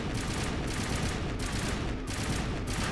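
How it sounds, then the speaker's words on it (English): Sustained automatic gunfire from a Mass Effect weapon, fired continuously until it nears overheating, a dense, loud, unbroken rattle of rapid shots with no voices over it. "That's how long I can shoot before it overheats."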